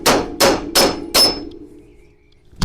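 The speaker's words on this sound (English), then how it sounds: "we got this fancy tool called a hammer" Four sharp hammer blows ring out on a metal part during Honda Accord transmission removal in a quick, even rhythm, each leaving a short metallic ring, then a lighter knock near the end.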